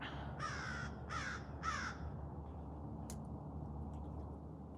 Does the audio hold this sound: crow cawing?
yes